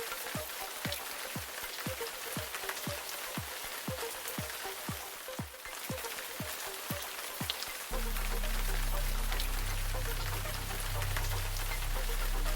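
Rain falls steadily at the Philippine Tarsier Sanctuary in Bohol, a dense, even patter of drops on surfaces, joined by regular low thumps in the first part and a heavier, rougher wash later.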